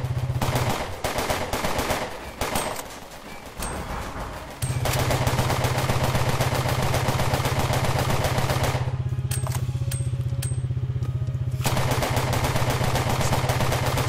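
Rapid gunfire in the video game Cortex Command crackles in dense, loud bursts, first choppy and then sustained over a steady low hum, with a brief drop in intensity partway through.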